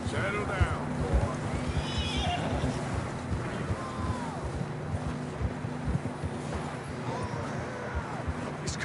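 Horse neighs and clip-clop hooves from a Red Dead Redemption 2 game ride, with whinnies rising over steady hoof beats, some wind, and voices talking throughout.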